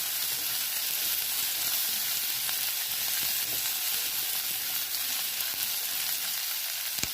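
Finely chopped onion frying in a pan for a Rayalaseema-style uggani, a steady close sizzle and crackle that holds evenly throughout, with no talking over it.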